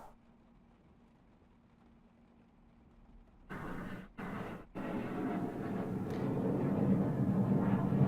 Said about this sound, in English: That's an aeroplane, by the way.